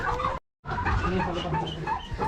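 Heritage-breed chickens cluck and chatter on a small farm, a close, busy run of short clucks broken by a brief silent gap.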